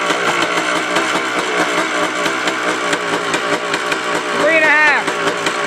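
An ATV engine is revved up and down during carburetor tuning, its RPM climbing and then settling back. Someone talks over the loud, close engine throughout.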